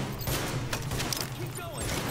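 Gunfire from the shooter video game The Division rattles in a dense, continuous volley under game sounds, with a voice speaking over it.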